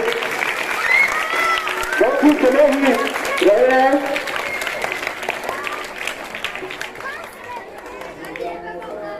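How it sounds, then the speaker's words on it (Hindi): Loud clapping from a crowd at a school retirement ceremony swells and holds under a voice talking over a PA throughout, with scattered crowd chatter. "और ये जोरदार ताली हो गए सर के लिए,"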